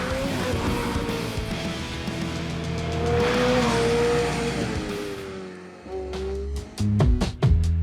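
A 2022 McLaren 765LT supercar engine roaring loudly from inside the cabin, revving and shifting, with tyre squeal and sharp pops and cracks near the end, no talking.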